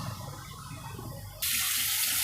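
Water gushes into flour for thepla dough in a home kitchen, a sudden bright splashing stream starting midway after a quieter stretch of background noise.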